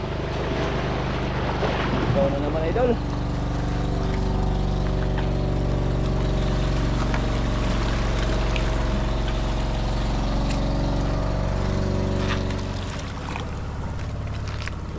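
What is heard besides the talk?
motorboat passing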